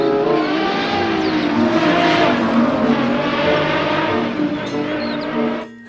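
A toy race car plays a loud, continuous revving engine sound effect, buzzy and steady throughout before cutting off abruptly at the end.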